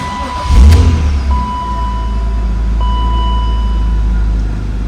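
A 1999 BMW M3 coupe engine cranks and catches with a sharp burst, then settles into a steady low idle with a faint high whine, close and loud.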